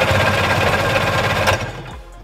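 Two-stroke Sea-Doo personal watercraft engine cranking over with the throttle held wide open, a loud rapid rhythmic chugging that runs steadily, then slows and stops near the end.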